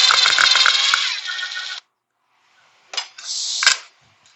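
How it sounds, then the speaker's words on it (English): Plastic tabs pulled from an in-wall electrical gang box with the screws left in place, giving close, bright clicks and plastic rattling, then a short silence and another brief bout of clattering, with no talking. "I'm going to take the plastic tabs out."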